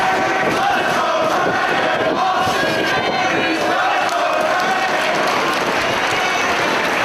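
A dense arena crowd at a Ring of Honor wrestling match roars, claps and chants continuously, loud and steady throughout.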